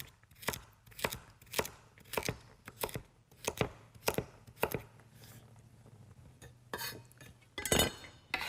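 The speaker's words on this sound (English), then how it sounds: "then just cut them into pieces about the same size as your celery" Vegetables are chopped on a cutting board: about a dozen crisp knife strikes in a loose rhythm, a short pause, then a few more chops and a clatter, close and clear.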